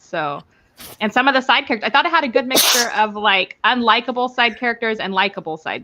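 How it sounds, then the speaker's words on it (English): One sharp, loud human sneeze bursts out in the middle of steady close speech, which carries on right after it. "I'm gonna sneeze again"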